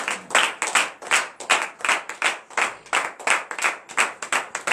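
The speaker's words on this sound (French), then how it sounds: "Montrons notre reconnaissance en donnant de vives acclamations à l'Éternel." A congregation at a morning prayer service claps in a fast, steady rhythm, with sharp, close claps repeating evenly throughout and no talking.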